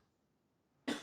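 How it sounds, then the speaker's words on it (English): A single short, sharp cough bursts out close to the microphone at the very end, after near silence. "I'm going to cough."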